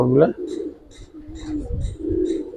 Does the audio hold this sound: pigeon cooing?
yes